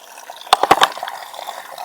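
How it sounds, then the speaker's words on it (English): Spring water spills from a pipe at a watering hole near a lookout along the North Fork Clearwater River, a close trickle with a brief burst of splashing bursts in the middle. "It's got a pipe coming out of the spring"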